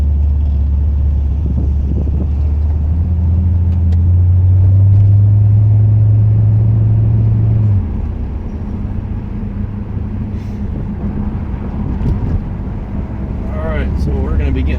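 Car with its exhaust resonator removed, driving on a road; a loud, steady low engine drone rises between about four and eight seconds, then eases back to a constant rumble with wind noise.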